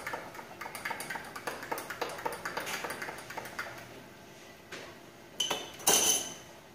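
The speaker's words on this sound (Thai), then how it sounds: "คนส่วนผสมทั้งหมดให้เข้ากันค่ะ" Iced coffee ingredients stirred in a glass, a quick run of light clinks and ticks as a spoon strikes the sides, fading briefly before a few louder knocks and a bright final clink near the end.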